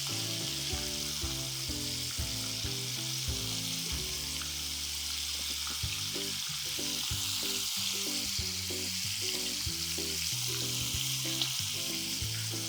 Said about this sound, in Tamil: ஃப்ளேம் வந்து ஹைலே வச்சு பொரிச்சு எடுத்துக்கலாம்